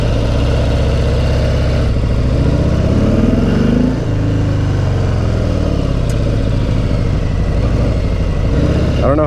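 A 2018 Harley-Davidson Sport Glide motorcycle engine rumbles steadily during a test ride, a loud deep throb with rising and falling revs as the bike accelerates, plus wind noise.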